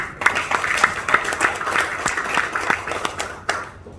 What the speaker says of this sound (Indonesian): Jadi tepuk tangan untuk PPI.